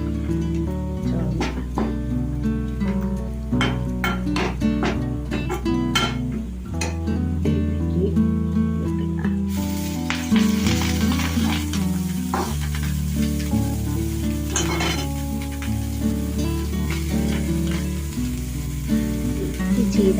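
Ponnankanni greens dropped into a hot pan and frying, a continuous loud crackling sizzle with scattered sharp pops and spatters running throughout, no voices.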